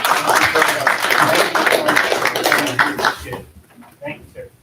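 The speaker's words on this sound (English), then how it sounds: "Round of applause." Applause at a city council meeting, a short burst of many hands clapping that thins out and fades, with someone speaking briefly as it dies away.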